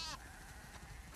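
Sheep bleat once, briefly and up close, at the start of a farm scene in the video game The Last of Us Part II, followed by a low, steady background hum.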